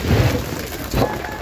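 Steady rain falling outdoors at night during frog catching, a dense continuous hiss with low rumbling swells, loud and close throughout.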